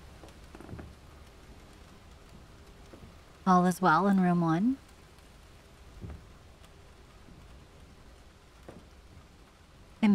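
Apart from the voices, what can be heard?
rain ambience in the Ten Bells spot-the-difference video game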